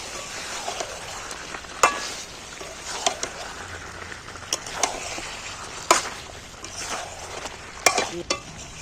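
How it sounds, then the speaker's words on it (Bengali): Four potato pieces frying in a pan of chicken curry are stirred repeatedly, sharp scraping strokes landing every second or so over a steady close sizzle. "এখানে আমি চার পিস আলুও ডবকাই তুলে দিচ্ছি নাড়দে নাড়দে সেদ্ধ হয়ে যাবে"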